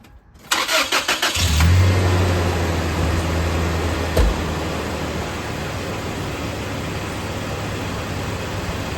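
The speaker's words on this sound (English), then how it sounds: "now we'll start up the truck and fill that oil filter" A 2002 Toyota Tacoma pickup engine cranks with a quick stuttering burst, catches and roars up, then settles into a steady low idle that runs on without talk.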